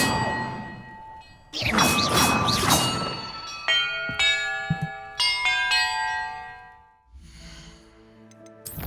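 Bells struck one after another in a Hogwarts Legacy puzzle, loud metallic clangs and dings with long ringing tones, spaced irregularly and close, with no talk over them.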